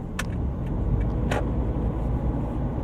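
A car drives along a residential street while making a left turn, its steady road and engine rumble continuous and fairly close, with a few brief higher clicks or squeaks along the way.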